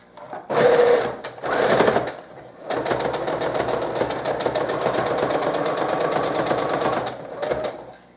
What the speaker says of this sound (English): You're going to work on it from the machine, and you're going to go right back over that seam all the way across